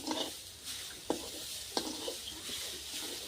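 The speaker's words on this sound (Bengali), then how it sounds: "চিনি আর নারকেলটা একসাথে আর ভেজে পুরটা বানিয়ে নেবো" Coconut and sugar filling for pitha frying in a pan, a low steady sizzle punctuated by a few crisp spatula scrapes and taps against the pan.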